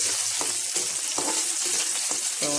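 Green chilies frying in hot oil in a pan, a loud continuous close sizzle with rhythmic stirring scrapes and clinks of a utensil, no talking.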